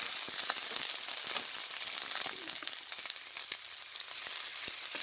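Ginger sizzles steadily in hot oil in a pan while egg fried rice is being made, a close, continuous bright crackle with scattered pops and no voices.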